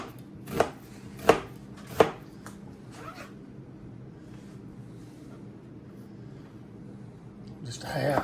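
Knife chopping an onion on a cutting board, three sharp, close chops early, then quiet, with a rustle at the end.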